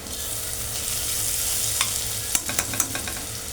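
Onion-garlic masala with turmeric sizzles steadily in a frying pan, a close continuous hiss joined near the end by several crisp scraping clicks of a spoon stirring.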